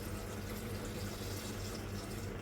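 Water is poured into a pot to boil chicken for a village-style chicken curry cooked over a wood-fired stove, a steady close splashing and rushing wash that fills the whole stretch without a break.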